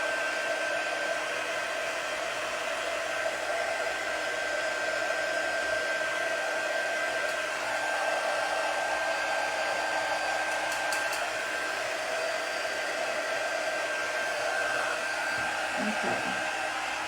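A heat tool blowing hot air to dry a painted surface, a continuous loud steady whirring roar with an even tone that holds unbroken for the whole stretch, alone with no talking.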